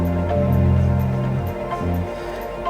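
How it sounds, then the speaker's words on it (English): A dense electronic backing track in F plays continuously with a deep synth bass line, layered pads and a steady beat, fairly loud and unbroken. "What you're hearing is some electronic music."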